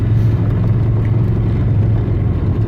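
An Aixam City GTO microcar drives along, its small engine giving a steady, loud, low hum and rumble close by from start to finish, with no talk.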